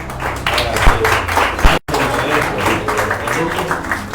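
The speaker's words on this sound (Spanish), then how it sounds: "Demos un aplauso de ánimo" A church audience gives encouraging applause, with brisk, crowded clapping broken by a brief cut and then resuming, while a voice speaks faintly underneath.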